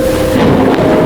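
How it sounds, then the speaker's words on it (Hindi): Heavy rain with rumbling thunder outside, a loud, dense roar of downpour and low rumble filling the whole moment without any voices. "बाहर बहुत तेज बारिश हो रही थी"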